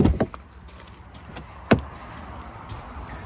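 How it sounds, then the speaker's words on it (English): A few sharp clicks and clunks as an Audi A7 Sportback unlocks, then a brief mechanical whir as its side mirrors unfold, followed by a quiet hum. "when we unlock the car like so, we can see the mirrors will pop out"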